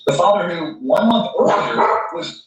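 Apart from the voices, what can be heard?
dog barking in the background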